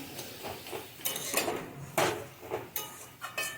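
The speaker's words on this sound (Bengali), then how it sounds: "এবার ঢাকাটা খুলে দেখব কীরকম হয়েছে" Metal pot lid handled over cooking cabbage in a home kitchen, a series of light clanks and clinks with quieter rattling in between, close by with no talk.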